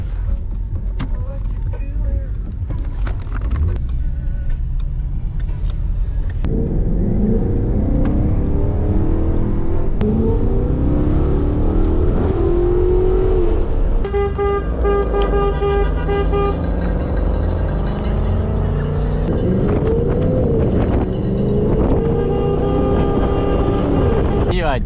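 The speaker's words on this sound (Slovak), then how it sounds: "nakladáme sa do auta a pokračujeme v karavane" A car drives in the advertising caravan of the Okolo Slovenska 2021 cycling race with a steady engine and road drone throughout, broken by horn toots and passing vehicles, while people talk inside.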